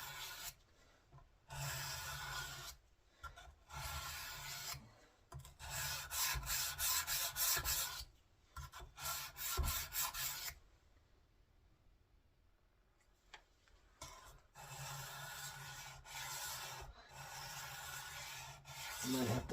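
Kitchen knives, one worn narrow from repeated sharpening, stroked across a sharpening stone, giving repeated close scraping passes in bursts, a quieter pause in the middle, then more strokes with no talking.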